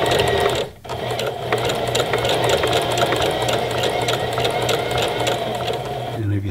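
A Singer Heavy Duty sewing machine runs a wide zigzag stitch at stitch length 2, its fast needle chatter steady and close throughout, broken only by a brief pause near the start.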